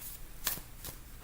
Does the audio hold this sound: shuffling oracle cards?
yes